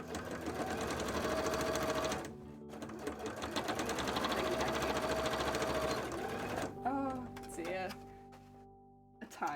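A sewing machine stitches in long, loud bursts with brief pauses between runs, while a person talks alongside it.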